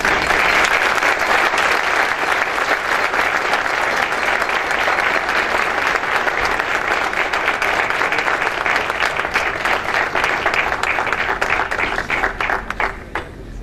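Loud, sustained applause from an audience at an environmental cooperation program award ceremony, dense clapping that fills the whole stretch and starts to thin slightly near the end.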